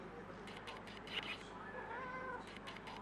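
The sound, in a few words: cat meowing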